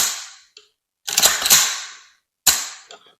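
AK-47 rifle function check after cleaning and reassembly: three sharp metallic snaps of the action and trigger, loud and close, separated by brief silences with short rattling tails.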